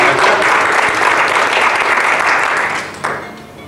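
A seminar audience applauds for Mr. Jeffrey Peck with a steady, dense burst of clapping that fills the room, then fades toward the end.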